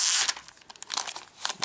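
Plastic envelope wrapping being peeled back from a Logitech Ultrathin keyboard for the iPad mini, a short close burst of crinkling and tearing with no talk.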